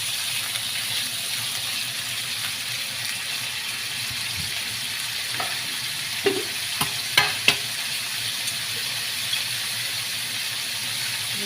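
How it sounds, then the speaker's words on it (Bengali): Prawns lightly frying in a pan, a quiet even sizzle running throughout with a few scattered clinks and taps toward the middle, no voices. "আমি মাছটা আগে দিলাম, কারণ মাছটি একটু হালকা ফ্রাই করি"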